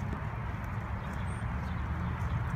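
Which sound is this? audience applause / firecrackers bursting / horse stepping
horse stepping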